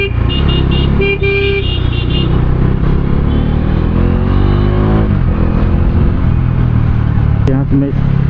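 A Bajaj Dominar motorcycle engine hums steadily while riding in hot, sunny traffic, with someone talking over it in Hindi and a brief horn toot.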